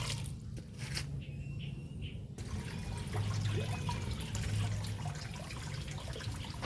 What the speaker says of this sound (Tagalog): lagyan po natin ng isang tabong tubig at tingnan natin kung siya ay madidrain agad